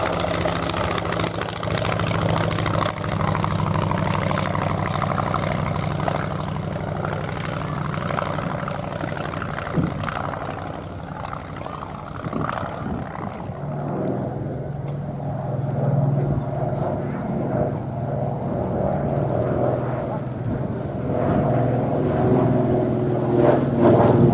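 Propeller-driven vintage aircraft flying at the Shuttleworth airshow, a steady engine drone with throbbing low hum that swells and fades slightly over about 24 seconds, heard from the ground with no talk.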